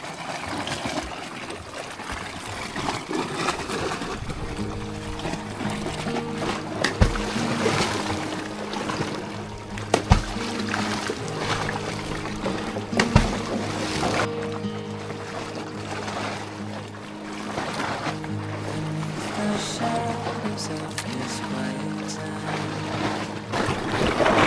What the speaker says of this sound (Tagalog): Medyo lumalakas na yung kakaalon-alon na.